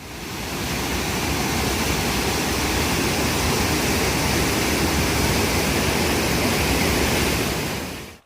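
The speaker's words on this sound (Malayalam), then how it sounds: "ഇവിടെ അതിശക്തമായിട്ട് വെള്ളം ചാടിക്കൊണ്ടിരിക്കുകയാണ് വെള്ളത്തിൻ്റെ ഒഴുക്കുകളാണ് നിങ്ങൾ കണ്ടുകൊണ്ടിരിക്കുന്നത്" Water rushes forcefully through an open shutter at Bhoothathankettu dam, a loud, steady broadband roar that fills the whole stretch without a break and fades out only at the very end.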